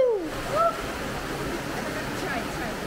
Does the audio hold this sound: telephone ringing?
no